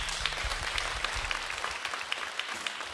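Steady audience applause at a concert by a singer, a dense even patter of many hands clapping at moderate distance, continuous throughout with no voices.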